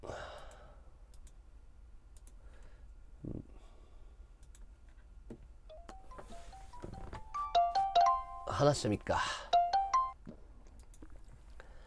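An outgoing phone call rings through a series of bright, melodic electronic tones in the second half, following a quiet stretch with a few soft clicks and a brief breathy sound near the start.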